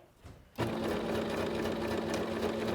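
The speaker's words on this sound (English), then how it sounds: "I'm just going to start sewing." Singer SewMate 5400 sewing machine stitching a zipper starts up after a short quiet moment, then runs in a steady, continuous close-up whir with a dense rapid stitching rhythm.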